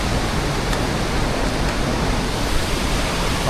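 Rushing stream water churning into a whirlpool along a forest trail, a loud, dense and unbroken roar of moving water heard close by, with no voices.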